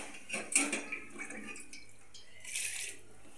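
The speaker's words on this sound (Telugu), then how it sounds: "వేసేసుకొని ఒక 2 గ్లాసులు నీళ్ళు పోసేసుకుందాం." Two glasses of water poured into a pot of mashed chickpeas for pani puri filling, a close splashing pour with a couple of louder surges and a second gush near the end.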